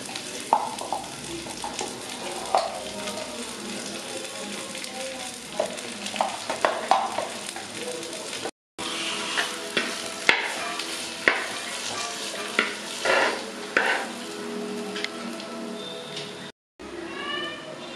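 Ground spice paste fries in a pan for a Kerala-style kalanchi fish curry with a continuous close sizzle and repeated scraping stir strokes. Two brief dropouts break the sound.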